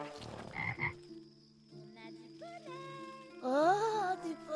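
A toad in an animated film croaks in several loud, close, rising and falling calls, with some background music at the start.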